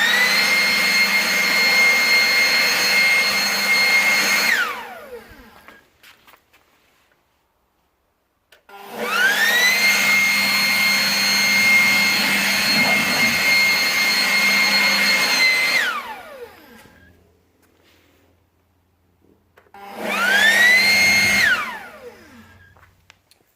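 A Ryobi 40V Gen 3 leaf blower running without turbo, a loud rushing whine in three bursts separated by pauses, each spinning up and winding down with a falling pitch.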